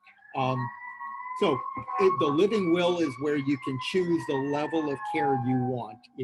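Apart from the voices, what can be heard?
ambulance sirens passing outside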